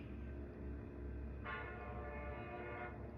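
A train passing outdoors, a steady low rumble throughout with a horn-like tonal blast in the middle, faint and distant, with no talking.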